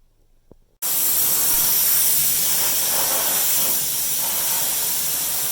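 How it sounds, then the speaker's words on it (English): Spray gun laying epoxy primer onto a front valance and scuttle panel of an Alfa GTV under restoration, a loud steady hiss starting abruptly after a brief quiet moment and continuing close-up without talk. "Getting that epoxy primer on"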